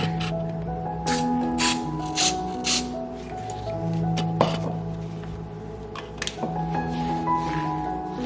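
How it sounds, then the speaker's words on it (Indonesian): A cooking spray is squirted onto a mooncake mold in a few short, hissing bursts at close range, with light handling clatter in between. "Saya semprot dulu."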